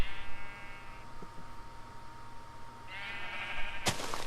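Sheep in the Minecraft Pixelmon mod give two drawn-out, buzzy bleats a couple of seconds apart over a steady game hum, followed by a sharp, brief burst of noise at the end.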